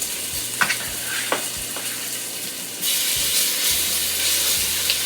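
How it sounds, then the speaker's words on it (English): Beef searing in hot oil in a Dutch oven, a bright crackling sizzle that jumps louder midway as more pieces hit the pan, with intermittent low clunks of handling over the continuous hiss. "Now we're going to sear these in batches."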